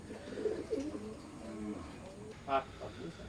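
Omani teddy pigeons, a young pair, cooing softly in a low rolling murmur, with a short louder call near the end, close by.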